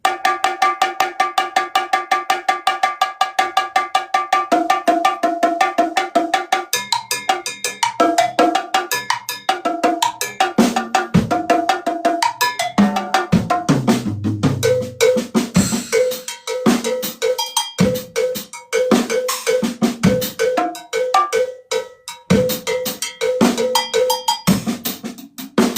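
A drum kit played by a Chicago drummer, with a bright ringing bell or cymbal pattern driving a steady fast rhythm while drums and fills join in, continuous, close and loud.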